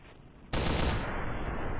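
Sustained suppressing gunfire in a video game bursts in suddenly after a quiet moment, a loud, continuous rattle of rapid shots that stays dense and close to the end.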